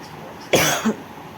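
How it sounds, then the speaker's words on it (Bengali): A single sharp cough close by, followed by a short throaty catch, against a quiet steady background hum. "আর আমার কাশি হচ্ছে"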